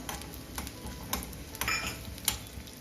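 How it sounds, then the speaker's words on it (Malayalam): Cashew nuts frying in oil for a chicken stew, a quiet sizzle broken by a few sharp spoon taps and scrapes against the pan, close and without speech. "ഇനി അതിലേക്ക് ഒരു അണ്ടിപ്പരിപ്പ് ഇട്ട് കൊടുക്കാം ഇനി ഇതൊന്ന് മൂത്ത് വരട്ടെ"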